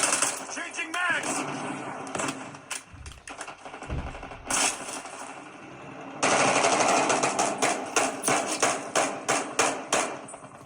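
Rapid automatic gunfire and explosions from Warzone gameplay running on a Xiaomi Pad 7 Pro tablet, loud and dense, with a quieter stretch early on before sustained bursts of fire return.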